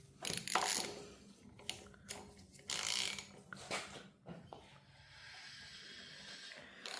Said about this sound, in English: I'm gonna have the crank turned to TDC.